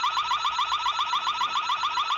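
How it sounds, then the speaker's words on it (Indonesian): A loud, rapidly warbling electronic alarm siren from a mini security camera wails continuously, close up and without pause. "Nggak ketinggalan support juga sirine alarm."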